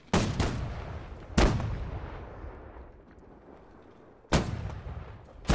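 Heavy cannon fire during a naval battle in Holdfast: Nations at War, with several loud, booming broadside shots, a close double blast at the start, another single boom, then a pair near the end, each rumbling away into the quiet between.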